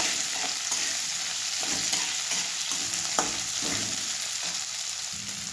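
Sliced onions and curry leaves fry in hot oil for a potato curry, a steady close sizzle broken by repeated scraping stirs of a spoon through the pan, with no talking.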